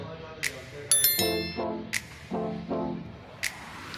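A bicycle-type bell ringing, several bright rings in quick succession with clear tones, mixed with sharp spray-like bursts, loud and close.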